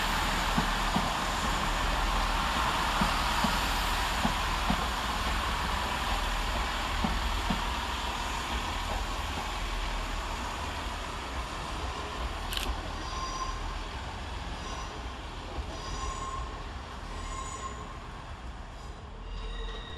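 Great Western Railway unit 165111 pulls out of Redhill station, a steady rumbling diesel drone with wheel and rail noise that slowly fades, and a faint squeal and camera click partway through.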